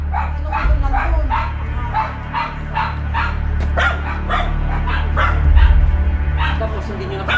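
A dog barks repeatedly and yips inside a house where a cobra has entered, a steady run of sharp close barks with a low hum and human voices underneath.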